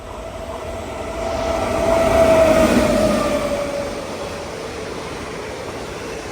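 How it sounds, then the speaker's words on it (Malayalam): A night passenger train bound from MGR Chennai Central to Mangaluru, running with older Utkrisht coaches, passes near Nileshwaram; its rumbling roar swells to a peak midway and then fades. "MGR ചെന്നൈ സെൻട്രൽ റെയിൽവേ സ്റ്റേഷനിൽ രാത്രി 8:10 പുറപ്പെട്ട ട്രെയിനാണ്."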